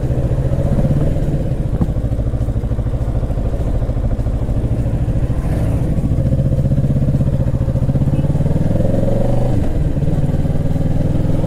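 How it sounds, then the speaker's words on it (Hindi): Kawasaki Ninja 650 motorcycle engine revving on the move, a loud, steady sporty exhaust drone with pitch rising and falling, close and continuous with no talk. "इंजन ऐसा रेव करने में लग रहा है कि भाई क्या ही ज़्यादा स्पोर्टी आवाज़ आ रही है।"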